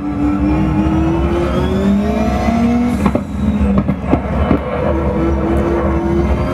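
Turbocharged race car engine in the RaceRoom racing game, a loud steady drone with rising and falling pitch as it accelerates and shifts gear, a brief burst of rattling around mid-clip, no talk.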